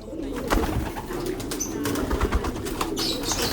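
Racing pigeons, including grizzle and blue bar birds in a loft, coo in low repeated throaty rumbles close by, with occasional wing flutters and faint chirps around them.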